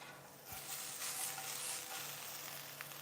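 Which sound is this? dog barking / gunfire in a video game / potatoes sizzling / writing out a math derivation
potatoes sizzling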